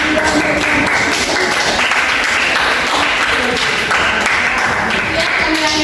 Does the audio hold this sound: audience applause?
yes